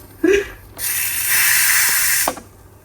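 Steam rushes out of a pressure cooker's release valve in a loud, steady hiss lasting nearly two seconds, framed by brief nearby handling sounds before and after.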